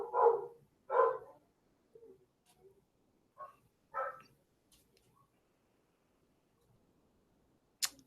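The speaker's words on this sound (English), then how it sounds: "Somebody rang the doorbell, so they're barking." Dogs bark after a doorbell ring, a pair of loud barks up front followed by a few softer, scattered yips and woofs in an otherwise quiet room.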